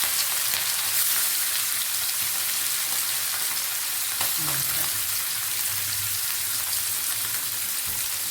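Fish pieces for fish curry frying in a pan, a dense, continuous crackling sizzle heard up close, with faint scraping partway through and no clear talking.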